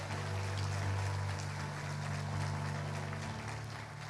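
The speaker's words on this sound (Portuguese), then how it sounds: "dá uma salva de palmas forte a Jesus Cristo aí, vamos lá, igreja" A church congregation applauding for Jesus after the preacher's call, a steady dense wash of clapping from many hands filling the room throughout.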